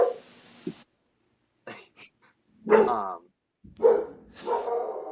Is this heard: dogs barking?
yes